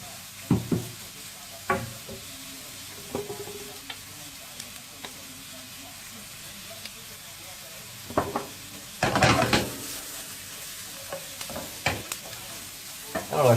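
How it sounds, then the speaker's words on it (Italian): Onion gently sautéing in butter over very low heat for a cauliflower risotto, a soft steady sizzle with occasional spoon stirs and scrapes against the pan, plus one louder burst of stirring. "E lo lasciamo soffriggere così un po'"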